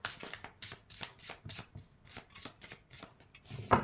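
Tarot cards are shuffled by hand in a steady rhythm of about a dozen crisp riffling bursts, close and fairly quiet, ending with a slightly louder tap of the deck.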